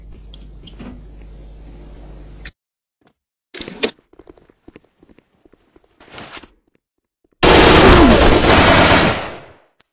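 Bursts of automatic gunfire from a Call of Duty-style shooter, some short clusters early, then a loud sustained volley of about two seconds near the end, with gaps of near silence between.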